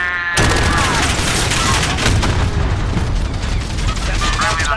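Explosions and heavy gunfire in a Call of Duty: Modern Warfare match erupt after a short quiet opening, followed by continuous loud booming and crackling battle noise to the end.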